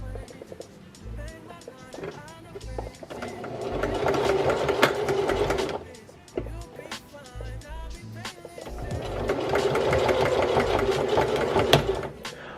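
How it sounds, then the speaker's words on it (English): A sewing machine zigzag stitches fabric patches onto a pair of pants, running in two long loud rattling bursts separated by short pauses and brief stops, close to the microphone. "what you're basically just gonna do is just zigzag stitch all the lines straight across"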